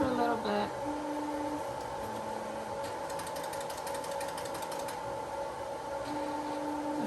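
A Ricoh Ri1000 DTG printer runs its maintenance cycle: steady motor hum with whining tones that start and stop, plus a quick burst of clicks and ratcheting mechanism noise.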